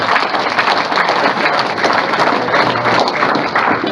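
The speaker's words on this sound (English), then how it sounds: "If we could give them a round of applause, that'd be great." Steady round of applause from a panel discussion audience thanking hotel staff, dense continuous clapping at close range that holds level throughout without talk.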